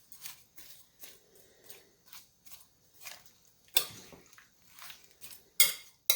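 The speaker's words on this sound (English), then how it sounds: "Give these a stir." A utensil stirs pickles in a microwave dish, giving light, irregular clinks and scrapes against the dish, with two sharper clacks standing out near the end.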